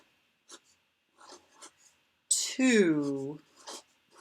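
Short scratchy pen strokes on paper come in brief bursts, mixed with a person talking and a long drawn-out vocal sound.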